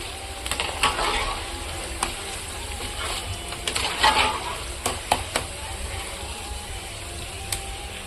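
Onion pakoda fries in hot oil with curry leaves added. The oil sizzles and crackles steadily, with scattered sharp pops and occasional stirring clatter, moderately close.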